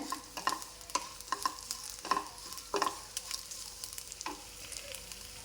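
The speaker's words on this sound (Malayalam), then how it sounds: "തേങ്ങ വറുക്കുന്നതിൻ്റെ കൂടെ ഞാൻ മല്ലിപ്പൊടി മുളക് പൊടി ഇട്ട് വറുത്തുണ്ട്." Grated coconut roasting with coriander and chili powder in a clay pot, a spoon stirring in repeated scraping strokes over a soft dry sizzle, close and fairly quiet.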